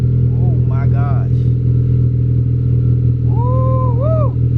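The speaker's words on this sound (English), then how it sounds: "But the Invidia exhaust sounds so sweet, guys." A 9th-generation Honda Civic Si with an Invidia exhaust and REV6 downpipe idles with a steady, loud, deep drone close by, while a person speaks briefly over it.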